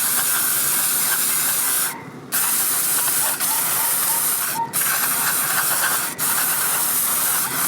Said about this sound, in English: So I'm going to start just spraying this in here.